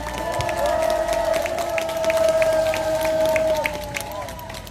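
A large crowd at an outdoor presidential election campaign rally in Gohyeon market, Geoje, cheers and claps in a steady, loud wash of applause, with sustained tonal sound from a voice or music on top.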